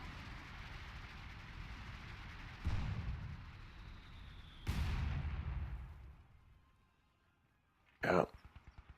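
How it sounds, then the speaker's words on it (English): Mortar pit firing on infantry in a World War II strategy video game, two heavy booming blasts a couple of seconds apart with rumbling tails, then a sharp loud impact followed by rapid fading echoes. "But the mortar pit is bringing in fire on them."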